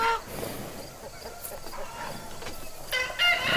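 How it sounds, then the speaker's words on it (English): Farmyard chicken clucking in a few short, scattered bursts over a noisy outdoor background, moderately close with no talk. "Chicken."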